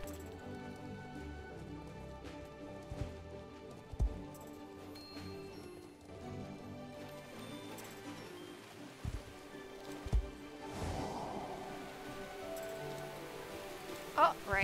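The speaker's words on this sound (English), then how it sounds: "Oh, rain." Steady rain falls across a dense outdoor soundscape in Star Stable Online, with scattered drops, a few sharp knocks and faint birdlike chirps near the end.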